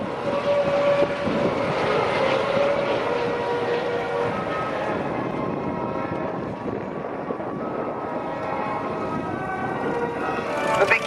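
A de Havilland Vampire and a Messerschmitt 262 jet fly at an airshow, giving a broad, steady roar heard from a distance that swells again near the end.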